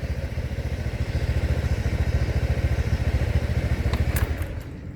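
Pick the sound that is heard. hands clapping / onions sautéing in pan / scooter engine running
scooter engine running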